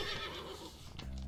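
A horse in the Above Snakes game gives a loud whinny that fades out, followed by the soft clip-clop of hooves, with no voices.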